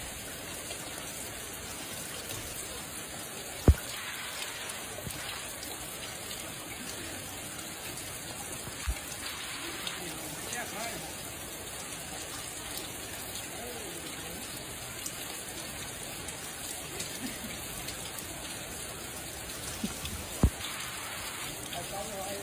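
Steady rain falls in a city with a constant hiss of drops on a surface and a few faint knocks, continuous and even throughout.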